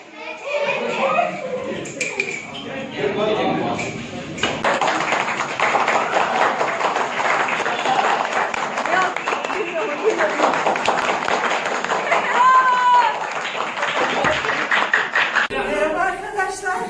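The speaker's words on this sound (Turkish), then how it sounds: "Alkış alkış." Young people clap together for several seconds in a high school setting, a steady patter of many hands with excited voices and chatter around it.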